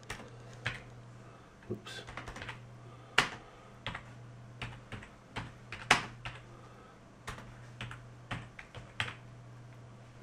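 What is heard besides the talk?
typing on a computer keyboard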